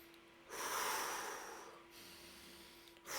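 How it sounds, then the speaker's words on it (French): One slow, deep breath drawn in through the nose, up close and quiet, followed by a long exhale and the start of another breath. "tu respires, on va dire, profondément"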